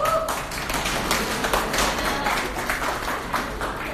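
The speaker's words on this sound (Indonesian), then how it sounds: "Bagi tepukan kuat sikit bagi semangat." Audience applause for the first participant at a ceremony or competition, steady dense clapping from many hands lasting throughout, fairly loud and close.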